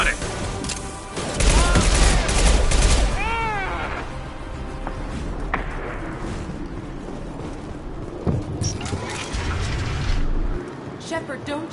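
Rapid gunfire and bursts from a shootout in the video game Mass Effect, dense and loud in the opening seconds then thinning into scattered shots, mixed with game effects and voices speaking.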